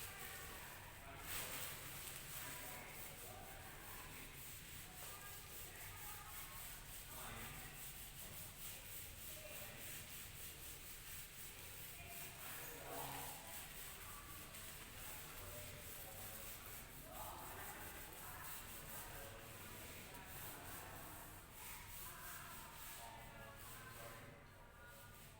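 A classroom board is wiped clean after a question during an English revision class. A soft, continuous rubbing and scrubbing goes on for about twenty-five seconds, faint and muffled against a low background hum.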